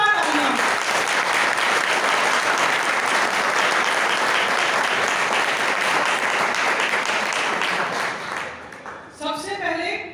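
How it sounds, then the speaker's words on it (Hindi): A crowd applauds the women volunteers at a Hindu Yuva Vahini gathering in Shalimar Bagh, steady loud clapping for several seconds before it tapers off and a voice begins speaking at the end. "तो सबसे पहले महिला शक्ति के लिए एक जोरदार तालियां"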